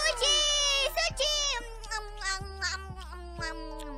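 A cat meowing in the Minecraft video game, a high, drawn-out mew followed by several shorter cries close up, with an excited voice talking alongside.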